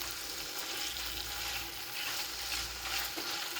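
Chopped tomatoes simmer and sizzle in a pan while being cooked down for a creamy tomato butter bean sauce, a steady, close bubbling fry with soft stirring texture and no talking.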